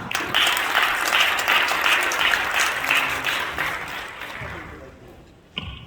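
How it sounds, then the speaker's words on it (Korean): Audience at a church revival seminar applauds to welcome a professor to the stage, a dense, sustained round of clapping that gradually fades toward the end, followed by a brief sound like a microphone knock. "크게 박수로 맞아주시면 감사하겠습니다."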